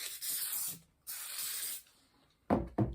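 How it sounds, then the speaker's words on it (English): Two short sharp hisses from a spray can of glue accelerator onto a wooden board, separated by a brief pause, followed by a couple of quick louder bursts of noise at the end. "I'm going to take the accelerator and spray it."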